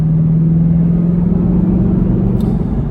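A 2013 Ford Mustang GT V8 cruising around town gives a loud, close, steady low rumble from inside the car, holding an even engine drone without revving throughout.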